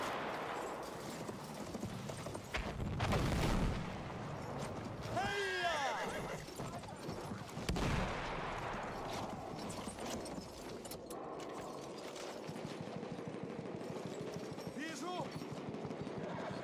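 Cavalry horses in the World War I shooter Battlefield 1, set in Galicia, neigh and clop amid battle noise, with a loud burst near the start and shouted voices over the mix.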